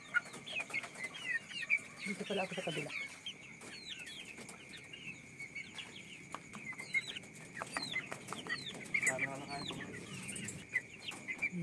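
Chickens cluck and chirp repeatedly at close range while pecking at moths drawn to a phone flashlight, with scattered calls throughout and a person speaking briefly over them.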